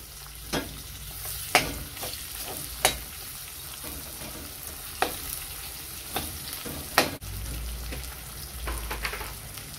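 Chopped onions fry in vegetable oil for plov with a soft continuous sizzle, punctuated by occasional sharp spoon knocks and scrapes against the pan.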